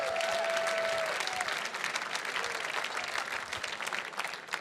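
Audience applause at a gala fundraiser, a dense sustained clapping from a large crowd that stays loud throughout and eases only slightly toward the end, with no talking over it.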